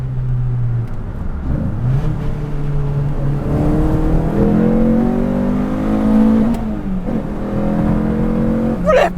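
Renault Clio 172 hatchback on a bumpy road with the windows down, its engine revving hard through the gears in repeated rising sweeps, loud and close from inside the cabin, with road noise and no talking.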